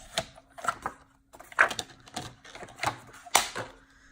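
Patterned Graphic 45 Flutter paper is cut to size for a mini album, giving close, sharp clicks and short scraping slides in an irregular rhythm against a quiet room, with no voices.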